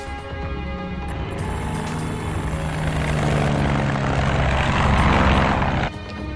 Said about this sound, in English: This plane will get you to where you need to go.